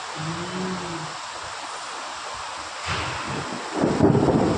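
Heavy rain falling in Kadi, a steady close hiss of downpour with a low hum at the start, swelling into a louder rush near the end.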